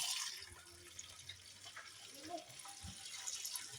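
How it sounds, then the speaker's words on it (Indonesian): Ten liters of water pour steadily against the inside wall of a bucket while liquid detergent is being made, giving a soft continuous splashing and trickling wash with quiet talking over it. "Nah, sekarang kita tambahkan air. Air ini 10 liter ya. Nah, cara menuangkan airnya itu ke dinding ember seperti ini."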